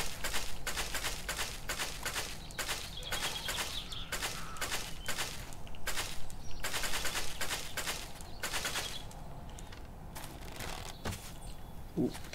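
Rapid gunfire from shooting zombies in the 7 Days to Die video game, close, steady volleys of sharp cracks for most of the stretch, thinning out toward the end.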